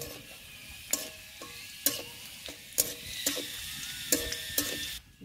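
Bay leaf and cumin seeds frying in oil, a soft continuous sizzle broken by regular clacking strokes of a utensil stirring the pan roughly once a second.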